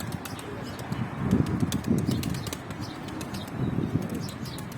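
Birds flapping and splashing while bathing in a coop, a dense, continuous rustle of wings with brief louder flurries and faint chirps, close by.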